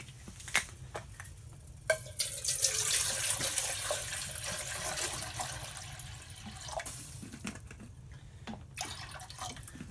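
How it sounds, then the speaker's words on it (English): Water pours from a tap into a pot to cook macaroni and cheese, a steady splashing stream that starts after a few clicks and knocks, then gradually thins, heard up close without talk. "Putting some water on."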